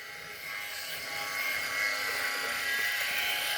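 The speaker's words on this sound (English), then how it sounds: "out of having a wet dry electric shaver." A Philips Norelco 5000 series wet-dry electric shaver runs with a steady close buzzing hum that builds slightly and holds, with no talking.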